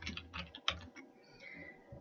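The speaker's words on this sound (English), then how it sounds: "I'm going to go ahead and type my name." A name typed on a computer keyboard: a short run of quiet, close key clicks in an uneven rhythm, with no talking.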